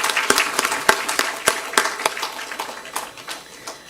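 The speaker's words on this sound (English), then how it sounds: "I now propose all present here to join me in offering a big round of applause to Professor Indranil" Sparse applause for Professor Indranil Manna at an engineering congress, a thin scatter of individual claps from a small audience, fairly close and unevenly spaced, with no talking over it.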